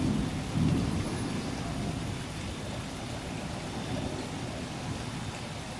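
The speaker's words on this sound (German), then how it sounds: "Das Unwetter war Falladas Glück. Es regnete den restlichen Tag weiter." Thunder rumbles over steady heavy rain falling on a surface, a continuous loud storm with a stronger low boom near the start and no talking.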